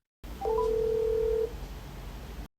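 A telephone call is placed to a care home: a short electronic chirp and then a steady, loud tone lasting about a second, over a low hum that fades out afterward.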